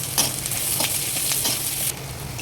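Puffed rice being fried and stirred with cumin, dried red chilies and roasted gram in a pan, a steady close sizzle with a few scraping stirs, no voices.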